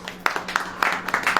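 A church congregation claps hands together during a Hindi sermon, sharp claps falling in a quick, even rhythm, close and clear, with a faint voice underneath.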